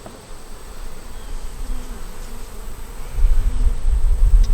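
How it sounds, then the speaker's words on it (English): A steady, dense insect buzz of many honeybees in a hive hums continuously, growing a bit louder and deeper toward the end, with no voices. "There's a good bed of bees in here."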